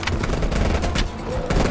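Rapid AK rifle gunfire in the video game Cold War, a quick run of loud, closely spaced shots over a rumbling battle backdrop.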